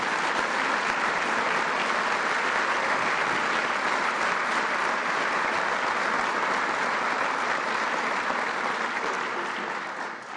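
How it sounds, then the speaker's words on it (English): An audience applauds loudly and steadily for about ten seconds, the clapping tapering off slightly at the end. "let's give the entire administration a round of applause"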